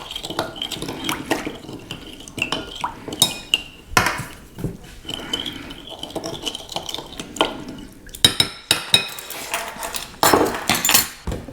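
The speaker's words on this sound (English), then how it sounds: "I'm going to take my tablespoon here and mix it all together." A tablespoon mixes garlic powder and other seasonings for beef jerky in a bowl, giving a string of sharp, close clinks and scrapes in an irregular rhythm, with no voices.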